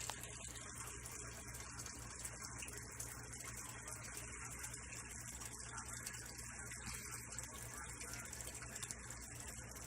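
Water flowing and gushing in a DIY moving bed filter tide machine built without a bell siphon, a steady, faint running-water wash that continues unbroken for the whole stretch.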